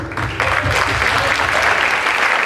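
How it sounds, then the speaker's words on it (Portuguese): A crowd applauds during a talk at an anime convention, giving steady, loud, continuous clapping throughout with a faint murmur of voices beneath. "eu digo um grande aplauso para vocês, que vocês merecem"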